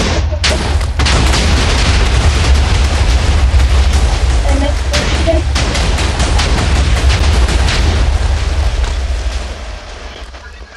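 A rapid series of loud TNT explosions in a video game crackles continuously, stacking into a dense barrage before fading out near the end.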